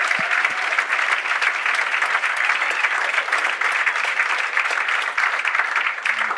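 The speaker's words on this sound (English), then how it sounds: "let's all give all of them a round of applause" A seated audience at a talk event gives a steady round of applause, many hands clapping densely and evenly from start to finish without pause.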